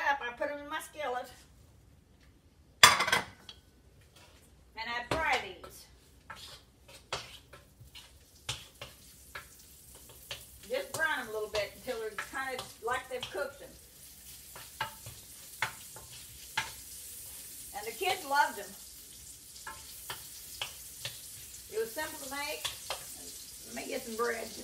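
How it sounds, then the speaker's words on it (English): Sliced hot dog wheels fry in a skillet, giving a soft sizzle with scattered clicks and scrapes from stirring. Talking carries on over the cooking throughout. "after I got them cut up, I put them in my skillet"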